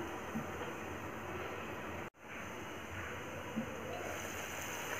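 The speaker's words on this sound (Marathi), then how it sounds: "पाण्याला चांगली उकळी आली आहे" Water boils in a covered pot. A steady, faint rushing and bubbling hiss runs throughout, broken once by a very brief dropout, and there is no speech.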